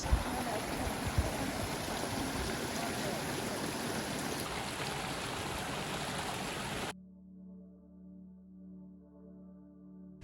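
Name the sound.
water roaring under canal aqueduct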